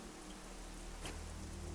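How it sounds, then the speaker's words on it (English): Steady rain falling in the video game Generation Zero, a constant soft hiss of drops with a faint brief brighter splash near the middle, no voices. "See, it's raining too."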